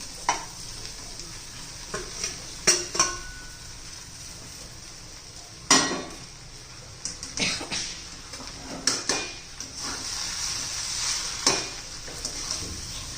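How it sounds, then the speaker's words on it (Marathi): Sabudana khichdi is stirred and heated in a pan: intermittent spatula scrapes and clinks over a steady soft sizzle, close up, with no talking. "छान अशी आता खिचडी गरम करून घेऊया"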